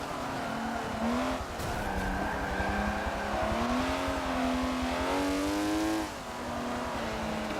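A TVR sports car in Forza Motorsport 7 accelerates hard, its engine note climbing and dropping through gear changes, loud and close, with tyres squealing now and then and a brief lift near the end.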